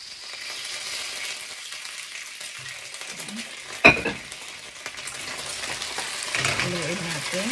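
Chicken wings with garlic frying in a pan with oyster sauce, a soft sizzle and crackle with a sharp clank of a utensil and scraping stirs, close, with faint talk in places.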